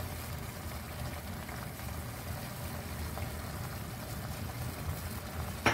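Spiced masala of cumin powder, chilli powder and turmeric frying in a pan for dhaba-style bhindi masala, a steady close sizzle with no talk.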